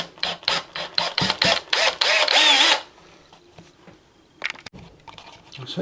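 A hand-held power drill bores a hole with a drill bit, with about eight short, loud whirring bursts in quick succession, then a sustained run, followed by quiet clicks and a couple of faint later bursts.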